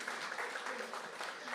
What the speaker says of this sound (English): I think we should give her a round of applause for that